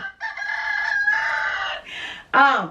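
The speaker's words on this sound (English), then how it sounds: "Also, I got roosters." A rooster crows loudly and close by in one long, broken crow, followed by a short, harsh call at the end, with no other sounds around it.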